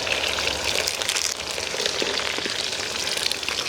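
Curry leaves fry in hot oil in a village kitchen, giving a steady, close, dense crackling sizzle that holds even throughout, with no talking.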